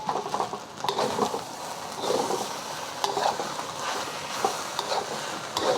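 A spatula clacks against a hot pan as scrambled eggs are chopped up into sizzling bacon fried rice with peas, with repeated short scraping taps over a constant fry crackle.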